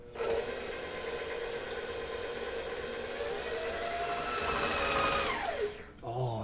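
An electric mixer with a paddle beats gluten-free sugar cookie dough: a steady whirring motor drone, close and continuous, that winds down near the end, with no talking.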